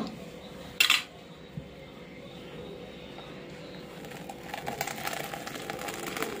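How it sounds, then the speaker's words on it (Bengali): Boiled noodles and their water tipped from a pot into a strainer basket: a sharp metallic clink of the pot rim, then a rising, steady wash of pouring water close by, with no talking. "এখন হচ্ছে জলটা ছেঁকে নেব। এই যে ঝুড়িটা রেখেছি, ঝুড়ির মধ্যে ঢেলে দেব।"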